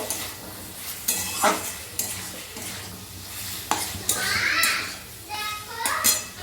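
Soya chunks with turmeric and Kashmiri red chili are stirred in a frying pan, with repeated scraping strokes and a light sizzle, close up, while a voice talks over it.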